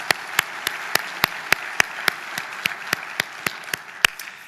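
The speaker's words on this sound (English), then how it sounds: "So let's a round of applause for the Commercial Real Estate Council." Audience applause at a civic awards event in Oklahoma City, a soft wash of clapping with sharp individual claps standing out in a steady, regular beat near the front.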